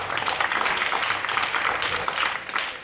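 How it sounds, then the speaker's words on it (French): An audience at a conference applauds warmly, steady dense clapping filling the room at an even level for a few seconds. "On peut applaudir bien fort"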